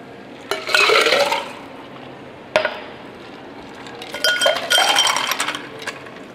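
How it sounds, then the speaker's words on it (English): Ice and cola tumbling between tin and glass for a Skrewball peanut butter whiskey cocktail, two loud bursts of rattling cubes and clinks with a short pause between them, no talking. "I am going to tumble to incorporate"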